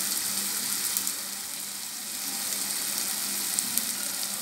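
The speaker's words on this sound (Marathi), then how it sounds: "बघा सगळं ढवळून घ्यायचं एक जिन्नस तेलामध्ये" Red chili powder, garam masala, pepper and salt fry in oil in a pan, a soft steady hiss of low sizzling with faint stirring, fairly quiet and without speech.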